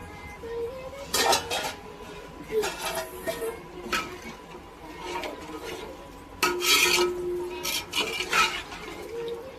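A spoon scrapes and clinks against a metal pot in uneven bursts, stirring mutton biryani close up with brief pauses between strokes.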